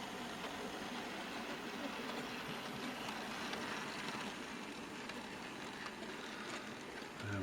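A model railway train hauling coal wagons runs steadily in a loft layout, giving a continuous, fairly quiet rolling rumble and clatter that holds even throughout.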